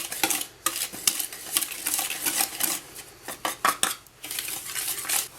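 A whisk beats flour and other dry chocolate cake ingredients in a bowl, giving a busy stream of close scraping and clinking taps with irregular bursts and brief pauses, no voices.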